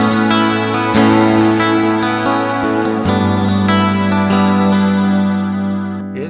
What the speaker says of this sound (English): Now, modulate is a little bit like adding a chorus pedal to the delayed, to the reverb sound.